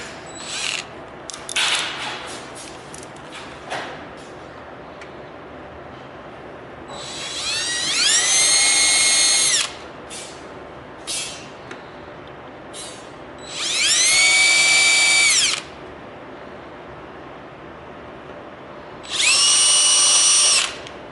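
A right-angle drill drives bolts into a Tesla coil base in three loud, whining bursts of a few seconds each, separated by quieter gaps with clicks and handling noises; no speech.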